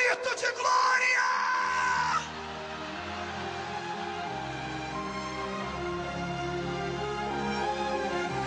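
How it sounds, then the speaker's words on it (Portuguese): A church congregation at a Brazilian revival service lets out a loud sustained collective shout of glory, a dense roar of many voices that fills the space for several seconds. "Quem crê nisso, dê um grito de glória."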